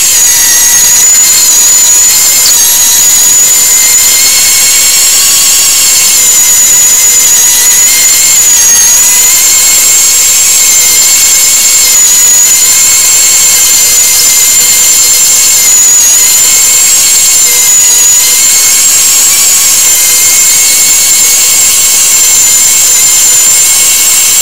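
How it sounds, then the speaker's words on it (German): Meat grinder mincing beef through a 2 mm plate for Leberkäse, a loud, steady motor whine that holds constant for the whole stretch with no talking. "Das Fleisch wird jetzt auf der 2 mm Scheibe oberverschiert."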